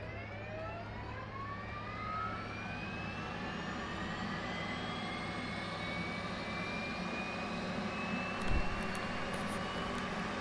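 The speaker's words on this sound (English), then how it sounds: "Alright, let's start the APU." Auxiliary power unit of an F/A-18C spooling up in the DCS World flight simulator, a steady whine rising in pitch over a constant low rumble, loud and unbroken, with a brief thump near the end.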